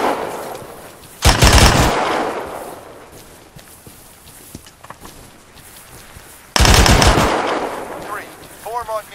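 Machine gun fire with tracers in the Arma video game on the Panthera map: two loud, close bursts of rapid automatic shots, each about a second long, separated by quieter stretches with scattered distant reports.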